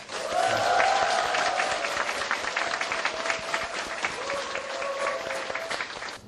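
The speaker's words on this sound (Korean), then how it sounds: "최고의 환호를 해주시기 바라겠습니다" Applause and cheering rise from the audience at a local community welfare council event in Gwangsan-gu, loud at the start and then tapering slightly while whoops and shouts ring over steady clapping.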